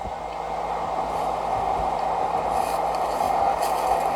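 A mass transit train rolls across an old train trestle that is still in use, giving a steady, moderately loud rumble that builds slightly over several seconds, with a sustained rail hum and no talking.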